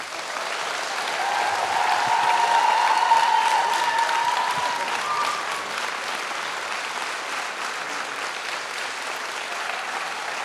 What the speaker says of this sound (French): vous pouvez l'applaudir encore une fois